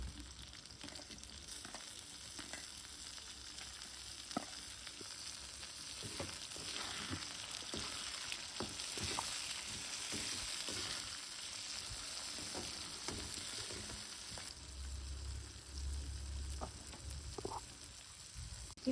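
Tomatoes and onions fry in hot oil in a pan for Tamil kara kuzhambu, a continuous close sizzle with occasional scraping stirs and small pops.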